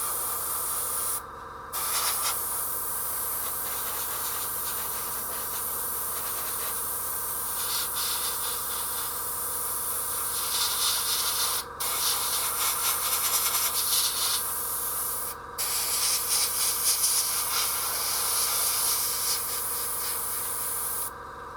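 A spray can coats a Skull Altar of Khorne miniature in black with a steady hiss in long continuous bursts, broken by a few short pauses between passes, close by and with no talking.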